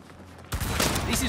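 Gunfire in the Saints Row video game erupts suddenly after a quieter stretch, a loud, dense burst of rapid shots with speech-like sound mixed underneath.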